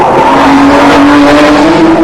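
1991 Nissan GTR R32 race car powering out of a corner at Bathurst, a loud sustained engine roar with a rising tone and some tyre scrub, close and alone with no talk.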